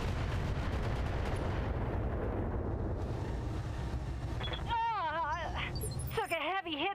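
LRM missiles fire in a rapid rumbling volley in the Battletech mech game, loud and dense, followed by warbling electronic tones and a voice speaking over the din.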